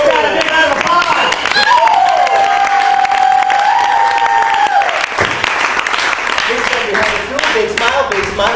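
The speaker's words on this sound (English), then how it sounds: "you got a big round of applause" Audience applause at a live magic show, a continuous wash of clapping with some cheering that carries on for several seconds with voices mixed in.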